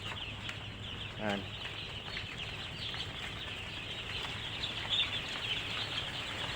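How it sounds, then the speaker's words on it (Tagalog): Chicks peeping indoors under three heaters on a small farm, a soft busy chatter of young birds with a brief brighter call, while someone talks over them. "Ito rin yung sisiw namin oh."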